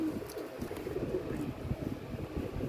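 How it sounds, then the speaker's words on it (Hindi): Domestic pigeons coo in soft, low, throaty repeated calls, heard close by against a busy outdoor background with faint other bird chirps. "ये और कबूतर आ गया"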